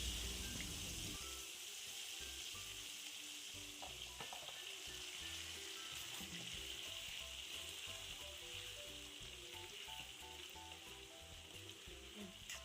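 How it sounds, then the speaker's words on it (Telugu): Stuffed brinjals sizzle and crackle steadily in hot oil for a masala curry, a continuous close frying hiss with occasional stirring, no talking. "తర్వాత ఈ స్టఫ్ చేసిన వంకాయలని ఆయిల్లో వేసి బాగా ఫ్రై చేసుకోవాలి"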